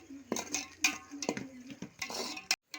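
Curry leaves with coriander and mint being stirred in a pan for tomato biryani, with a spoon scraping and clinking against the metal in irregular close strokes, briefly pausing near the end.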